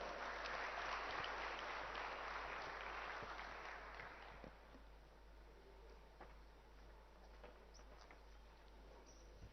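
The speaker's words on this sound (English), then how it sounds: "Can we please welcome him with a warm round of applause?" A convention audience at an inauguration event applauds a speaker, soft distant clapping that swells briefly and then thins out to scattered claps over a low hum.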